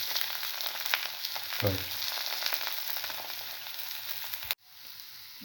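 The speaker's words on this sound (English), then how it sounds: "Turn it over and let it fry." A cinnamon mint potato omelette frying in a pan gives a steady, close sizzle with crackling throughout, briefly disturbed by a stir or flip, then cut off sharply near the end; a single short word is spoken.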